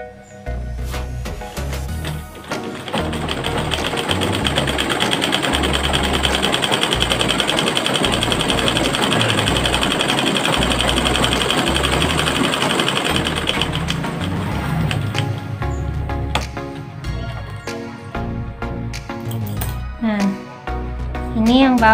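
A sewing machine stitches fabric in a steady, rapid mechanical whir that runs nearly nonstop for about fifteen seconds, close and loud, then stops and gives way to handling noises and someone speaking.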